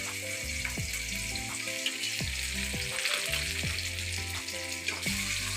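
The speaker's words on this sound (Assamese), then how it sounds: "এইপিনে মাতাশ্ৰীয়ে ভাজি আছে মাছ" Fish sizzles and spatters steadily as it fries in a pan on a home cooking hearth, with a dense continuous crackle and occasional sharper pops close by, no voices.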